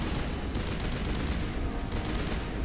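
Enemy turrets firing in the video game Mass Effect, a dense, continuous roar of rapid gunfire with faint crackling bursts that stays steady and loud throughout, with no talking.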